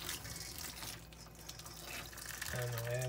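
Hot water pours from a tap or kettle over live lobsters set up for steaming, a running splash and gurgle that rises into a filling tone near the end, with a voice talking softly underneath.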